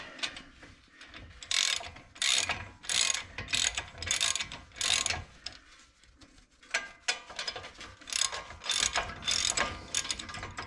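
Ratchet clicks in repeated bursts from a breaker bar working on the front brake bolts of a Honda Odyssey inside the wheel well, close and fairly loud.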